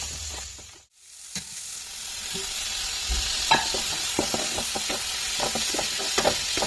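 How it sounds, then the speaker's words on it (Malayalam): Crushed ginger, garlic and green chili sauté in a pan for spiced rice, giving a steady close sizzle with intermittent scraping stirs and a brief dip near the start. "ഇനി ചതച്ചു വെച്ച ഇഞ്ചി വെളുത്തുള്ളി പച്ചമുളക് ചേർക്കാം അതൊന്ന് മൂത്ത് വരുമ്പോൾ"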